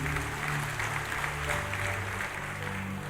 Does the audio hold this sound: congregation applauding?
yes